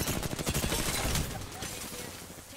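Rapid automatic gunfire in Apex Legends, a dense burst of shots crackling close for about a second and a half, then fading into quieter background noise.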